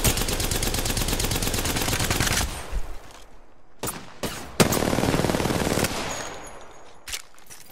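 Rapid automatic gunfire in the shooter game Apex Legends, a dense burst of fire followed by scattered single shots and a second sustained volley, loud and close.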